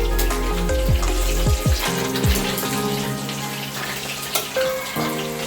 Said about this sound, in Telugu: చికెన్ దోరగా బ్రౌన్ కలర్ వచ్చే వరకు వేపాలండి